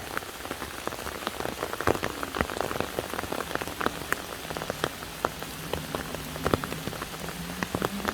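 Heavy rain falls during an outdoor harvesting outing, a dense patter of drops hitting nearby surfaces, with sharp close splats scattered irregularly over a steady wash of rainfall and no voices.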